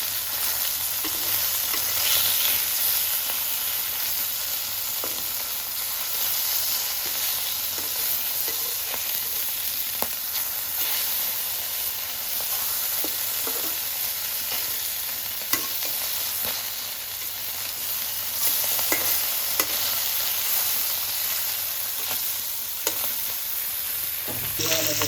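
Fish fries in a pan, sizzling steadily and closely for a long stretch, with occasional crackles and spatters rising out of the constant hiss.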